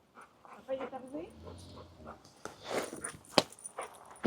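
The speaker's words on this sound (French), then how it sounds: "C'est qui est arrivé, mon chien?" A dog whimpers and pants excitedly as someone arrives at a family home, yips and scuffling footsteps mixing with people talking close by.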